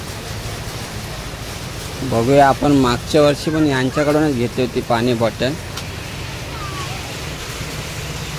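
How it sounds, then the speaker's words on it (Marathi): Heavy rain pours in a steady, dense hiss outside a shop, with a person talking over it for a few seconds in the middle. "पाऊस लागलाय ठोक."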